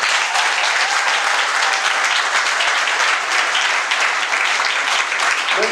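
Sustained applause from a wedding ceremony crowd greeting the couple's witnesses, dense steady clapping at full loudness throughout with no break.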